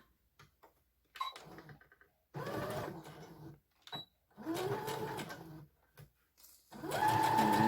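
A sewing machine stitches a doll backpack in several bursts of whirring, rattling needle motion, with short pauses and small clicks between runs, close and fairly loud.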